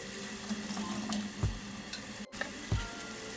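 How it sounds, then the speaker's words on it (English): A pot of water with salt and vinegar comes to a boil for Japanese ramen eggs, giving a soft continuous bubbling hiss broken by a couple of low thumps and a light clink. "Boil hot water"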